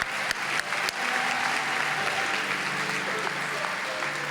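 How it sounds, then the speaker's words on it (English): An audience at the 19th annual Best and Brightest Awards ceremony breaks into a sustained round of applause after a few sharp opening claps, with faint voices mixed in. "Give yourself a round of applause for your patience."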